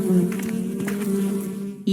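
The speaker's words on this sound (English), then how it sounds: "Look, bees!" Worker bees buzz outdoors in a steady, close drone that holds throughout, with slight wavering pitch as individual insects move near and away.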